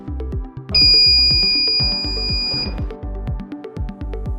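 Mug heat press timer signalling the end of a sublimation pressing cycle: a loud, high, sustained electronic beep lasting about two seconds over rhythmic repeating low clicks or ticks, close by.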